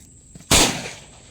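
A single sharp, loud gunshot from a homemade gun bursts out after a quiet moment, followed by a short decaying echo.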